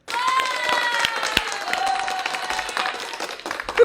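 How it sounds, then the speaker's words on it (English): A small studio audience claps to welcome a guest on a talk show, scattered, uneven claps over a steady bed of sound, close and moderately loud, with a little talking underneath. "Everyone clap eh"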